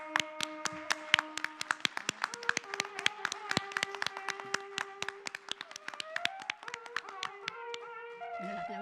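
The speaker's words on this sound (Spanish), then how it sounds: "el aplauso evidentemente es para Arguedas, no para mí" An audience claps after a lecture about the Peruvian writer Arguedas, a steady run of dense overlapping hand claps that continues throughout, with a faint tonal background beneath.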